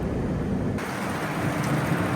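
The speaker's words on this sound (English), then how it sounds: "It's not stopped raining all day." Steady rain falls outdoors on a wet, gloomy day, making a continuous broadband wash that grows slightly fuller partway through, with no one speaking.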